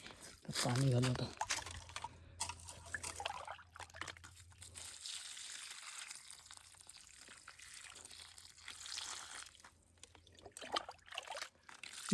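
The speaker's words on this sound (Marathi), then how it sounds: "पाणी घालू आता." Water poured from a 15-litre can onto potted plants tied to a support stick outdoors, a steady trickling splash running beneath a person talking throughout.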